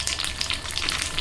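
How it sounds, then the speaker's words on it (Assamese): Pitha cakes frying in a little oil make a steady, crackling sizzle with bright popping. It is close and continuous, with no speech. "সেইবাবে তেল অলপ দি পিঠাবোৰ ভাজি আছোঁ"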